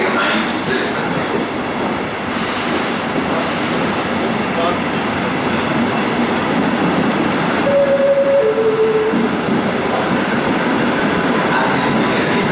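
A regional train at Udine station in northeastern Italy, heard as a loud, continuous rumble of rolling stock with a steady mechanical roar, a short tonal horn or whistle note partway through, and platform ambience.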